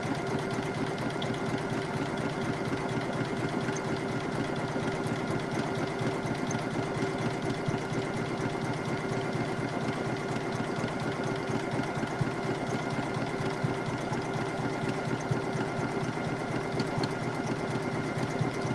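A Poolin EOC06 single-needle embroidery machine stitches a patch with satin stitches, giving a continuous, even mechanical hum and rapid rattling needle rhythm that stays steady and close throughout.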